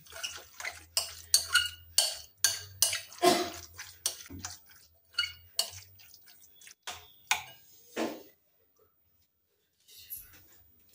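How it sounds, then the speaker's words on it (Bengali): A spoon mixes curd rice in a bowl, making a quick run of wet, squelching scrapes and clinks up close. It pauses briefly, then gives one last stir. "দশ মিনিট ধরে আমরা চামচ দিয়ে ভালোভাবে মেখে নিয়েছি।"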